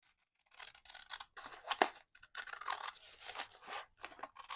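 Scissors cut through paper for envelope pockets in a run of close, crisp snips and scratchy rasps that come in short irregular bursts with brief pauses.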